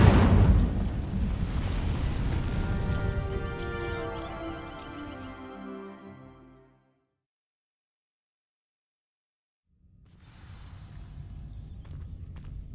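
Incendio fire spell igniting dry vines in the Hogwarts Legacy video game: a loud, roaring burst of flame that crackles and fades over several seconds into sudden silence, followed by a low ambient rumble returning.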